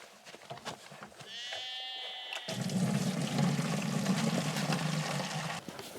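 A sheep on a small farm bleats with a wavering, nasal cry, then a loud steady rushing noise takes over for the rest of the moment.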